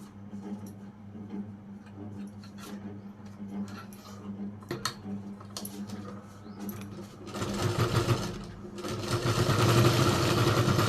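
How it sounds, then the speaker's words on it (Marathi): A home sewing machine whirs as it stitches saree fabric, running in short bursts before settling into a louder, sustained buzzing run toward the end. "आता आपण काय करू तर याच्या वरतून एक टीप मारून घेऊ आपण छोटीशी"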